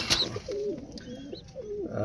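Pet pigeons coo in a coop, a close series of soft, throaty warbling calls with a brief higher chirp near the start, over quiet room background.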